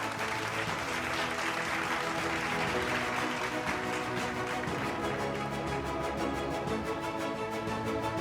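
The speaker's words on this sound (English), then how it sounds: "Can we all clap, please?" Audience applause at a tech conference event, a steady wash of many hands clapping continuously for several seconds, filling the room at moderate loudness with no speech over it.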